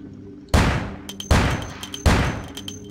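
Three loud, evenly spaced gunshots in the video game The Tower, each a sharp close crack followed by a decaying ring, with faint clicks between shots.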